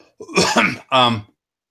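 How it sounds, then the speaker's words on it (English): Two close, harsh coughs in quick succession, the second rougher and throatier, with silence around them. "I got a cough."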